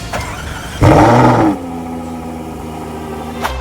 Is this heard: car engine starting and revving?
yes